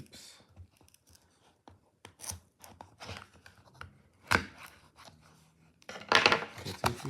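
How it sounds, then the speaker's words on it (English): Scissors snip through packaging tape while a Sharge ICEMAG charger box is being unboxed: scattered short cuts and rustles, with a louder burst of handling noise near the end. "Cut the tapes."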